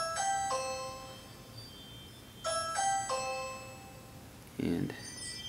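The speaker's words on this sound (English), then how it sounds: "So you got an upstairs and a downstairs Chime." A Ring video doorbell's indoor plug-in chime sounds a clear two-tone ding-dong twice in a row, ringing out bright and close before a short thump at the end.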